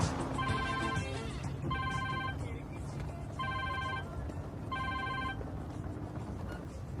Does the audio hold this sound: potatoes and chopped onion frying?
no